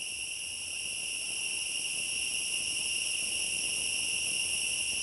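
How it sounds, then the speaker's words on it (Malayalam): Crickets in a wooded backyard in Kerala give a steady, loud, continuous high-pitched trill in several layered bands, unbroken throughout with no voices. "ചീവീടിൻ്റെ സൗണ്ട് ശ്രദ്ധിച്ചോളി."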